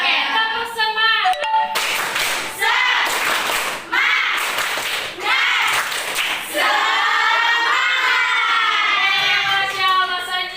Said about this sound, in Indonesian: kita tepuk semangat dahulu ya. Oke, tepuk semangat.